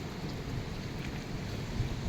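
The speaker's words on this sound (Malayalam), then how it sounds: "മഴ പെയ്താലും പ്രശ്നം തന്നെയാണ്" Rain falling in the UAE, a steady close hiss of drops with a low rumbling undertone, heard alone without any talking.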